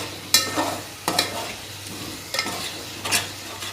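Masala sizzles in hot oil for Hyderabadi chicken biryani while a spoon stirs and scrapes the pan in a few distinct strokes over a steady frying hiss.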